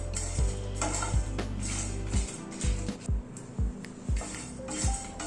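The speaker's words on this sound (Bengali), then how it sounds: "গ্যাসের ফ্লেমটাকে একদম কমিয়ে দিয়ে আস্তে আস্তে মশলাটাকে ড্রাই রোস্ট করে নেব।" Spices dry roasted over a very low gas flame and stirred in a pan for a Coorg-style paneer masala, giving repeated soft scraping and clinking strokes against the metal at close range, with no talking.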